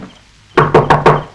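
Four sharp knocks on a wooden door in quick succession, close and loud, in a dramatic scene from a Telugu-era action film dubbed in Tamil, with no voices during the knocking.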